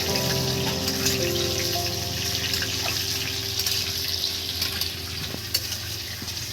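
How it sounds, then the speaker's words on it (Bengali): Potatoes sizzle and fry in hot oil while being stirred for a bhaja masala dish, a steady close crackling hiss with occasional soft scraping from the stirring and no talk. "তেলে দেখুন বন্ধুরা, প্রথমে আলুটা আমরা একটু নেড়ে চেড়ে নেওয়া হচ্ছে"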